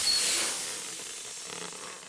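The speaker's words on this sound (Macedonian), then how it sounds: "Дедо Куче ја полни гумата со воздух." Air hisses steadily from a pump filling a car tyre at a cartoon garage, a soft breathy hiss that is loudest at the start and then tapers slightly, heard alone with no talk.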